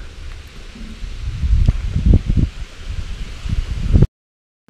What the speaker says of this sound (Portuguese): Tá ventando bastante, não é legal também, a câmera fica...